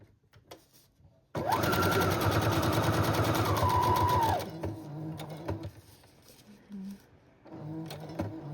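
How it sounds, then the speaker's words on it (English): A sewing machine stitches the two sides of a handmade junk journal with wallpaper pages, a loud steady whirring run of about three seconds followed by quiet handling sounds and faint talk. "I'm gonna sew up the 2 sides first."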